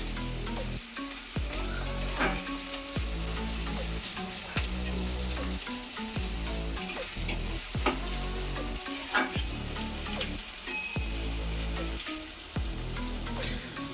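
Onions frying in a pan for a Bengali home-style chicken kasa, a loud, continuous close sizzle with repeated scraping stirs, with faint tonal background sound underneath and no talking.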